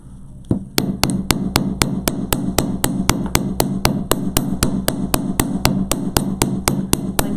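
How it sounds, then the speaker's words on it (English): A small hammer strikes the top of a jewelry wire loop in a fast, even series of about two dozen sharp metallic taps, close and loud, with no talk. "Okay, let's hammer the top."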